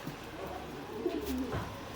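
A stray pigeon coos softly on a balcony, close by, with low murmuring calls over faint background noise.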